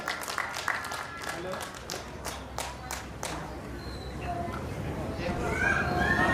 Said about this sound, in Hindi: जोरदार तालियां एक बार बजनी चाहिए पंकज प्रियम जी के लिए।